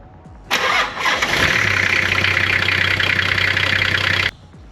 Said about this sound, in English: So we'll now just start the car and check for any leaks.